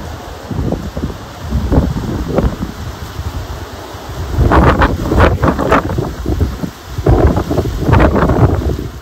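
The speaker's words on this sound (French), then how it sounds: "Alors croyez-moi qu'avec un vent pareil, et encore là, il n'est pas très très fort, ça pourrait être pire." Strong Mistral wind buffets the microphone in loud, steady gusts, with roaring rushes that swell and ease across the whole stretch and no voices.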